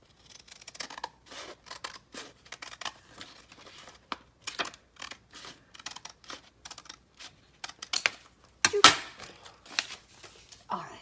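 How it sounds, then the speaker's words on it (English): Scissors cut through a glossy magazine page for a collage art journal, with a series of close, crisp snips and paper rustles in an irregular rhythm and no talking. "I guess I could cut right along here."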